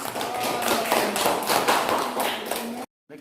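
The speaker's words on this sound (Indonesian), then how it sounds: "Oke, tepuk tangannya." Students in a classroom applaud together in a dense burst of rapid hand claps that stays loud and steady for almost three seconds, then cuts off abruptly into silence.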